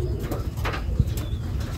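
Pigeons in a pigeon house coo softly in low, rolling calls over a steady background murmur, with a faint flutter of movement.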